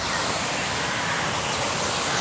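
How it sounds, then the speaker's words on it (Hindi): A park water fountain sprays steadily in Nehru Bal Udyan garden, giving a continuous, even hiss of falling water that stays close and fairly loud without pauses, and no voices are heard. "पानी का फुहारा"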